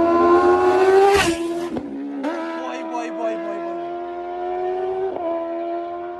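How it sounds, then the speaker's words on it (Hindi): Kawasaki motorcycle with an aftermarket exhaust roars loudly and steadily, its engine note dipping and rising several times as gears shift. "गियर शिफ्टिंग की आवाज सुनी गाइस"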